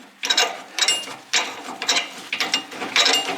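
Quick bursts of ratcheting clicks from a nut being tightened on the sway arm of a Frontier SB1164 snowblower, about five short close rattling runs separated by pauses, with no voices.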